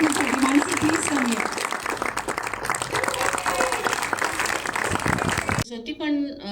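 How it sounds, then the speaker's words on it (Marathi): An audience applauds for actress Mansi Patil at the song launch of the film Tula Pahta; dense clapping fills most of the clip, then stops abruptly as a voice begins speaking near the end. "जोरदार टाळ्या मानसी पाटीलसाठी"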